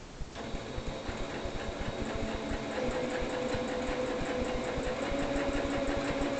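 A computerized sewing machine runs steadily, stitching scrap fabric with a fast, even mechanical whir and rapid ticking that continues for several seconds without any talk.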